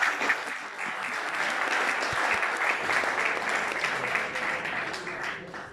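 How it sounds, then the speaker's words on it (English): Wedding guests break into steady applause after a best man's speech at an Irish wedding reception, a dense, even wash of many hands clapping at moderate distance, with a few faint voices mixed in. "Big round of applause."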